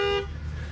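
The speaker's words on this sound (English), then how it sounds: "Just start honking and we'll start moving." A car horn gives one short, clear toot at the start of a race between electric family SUVs, then cuts off into low road-vehicle rumble.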